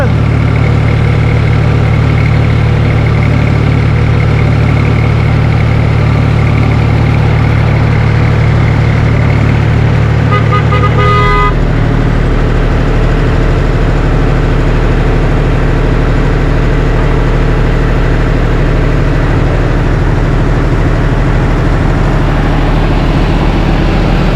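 A tractor engine runs continuously during potato planting, a loud steady low diesel drone that shifts in tone partway through and then keeps rumbling evenly.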